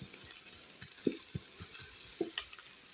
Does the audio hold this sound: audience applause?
no